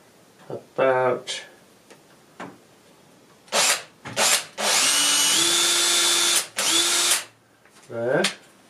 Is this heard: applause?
no